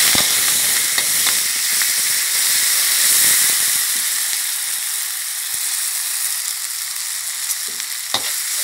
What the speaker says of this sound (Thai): ผัดพริกแกงให้หอมก่อน